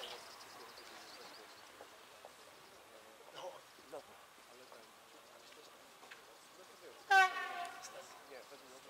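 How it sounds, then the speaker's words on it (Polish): An approaching DB Cargo Vectron MS electric locomotive on a test track sounds a loud horn blast as it draws near, under a steady low rumble of rolling stock and faint crowd chatter. "Zróbmy miejsce, żeby pokazać naszym gościom, jak lokomotywa nadjeżdża."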